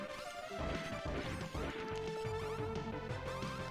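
Punching attacks land in Final Fantasy Tactics with crunchy smash and thwack hits over steady game music, several impacts in quick succession.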